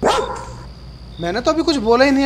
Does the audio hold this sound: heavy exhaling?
no